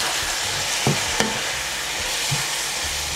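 Garlic-infused oil and soy sauce frying with noodles in a hot pan: a steady, loud sizzle with a couple of soft stirring knocks, close and continuous.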